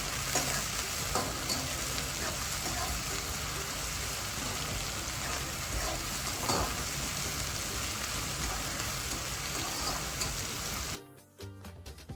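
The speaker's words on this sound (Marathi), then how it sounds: "आता आपण स्वच्छ धुवून घेतलेलं सुकट त्याच्यामध्ये तळून घेऊया" Dried shrimp (sukat) frying in hot oil in a kadhai makes a loud, dense sizzle that runs continuously and close until it cuts away abruptly near the end, with no voices.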